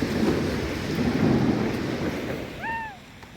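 Steady outdoor rain hisses across the band in a rain-and-snow storm, with some wind rumble. Near the end a short chirp cuts in and the noise thins.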